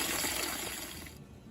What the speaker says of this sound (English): fill a big bowl of cold water